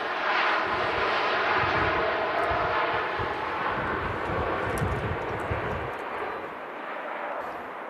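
TUI Boeing Dreamliner jet taking off from Manchester Airport bound for Montego Bay, a loud, steady broadband engine roar holding for several seconds before easing slightly, heard alone at a distance.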